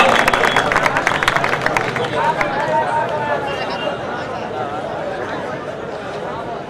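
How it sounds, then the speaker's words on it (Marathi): Crowd applause and cheering at a bodybuilding final, dense clapping strongest early on, mixed with loud crowd chatter and voices throughout. "टाळ्या वाजवा. कंजूसपणा करू नका."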